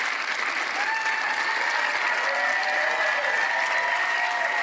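Spectators at a professional pickleball match in Atlanta applaud a point, a continuous wash of clapping heard from a distance with faint crowd murmur beneath and no talk on top.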